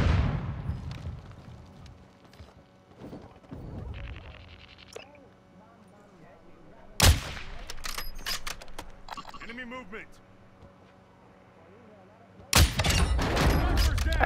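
Gunfire in Call of Duty: Modern Warfare II comes as two loud, sharp bursts several seconds apart, with scattered quieter shots and game sounds between and voices talking over the action.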